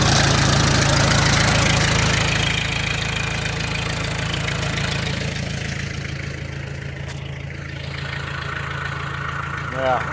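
An IH 424 tractor diesel engine cranking and then settling into a steady, loud idle close by, a constant low rumble that softens slightly partway through.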